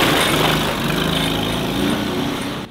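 A kids' new ride-on tractor driving through mud, giving a continuous high, buzzy motor whine with a broad hiss, fairly loud and close throughout.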